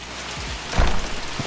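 Steady rain pours down in The Mortuary Assistant horror game, a dense even wash of falling water with a brief louder low burst partway through, no voices over it.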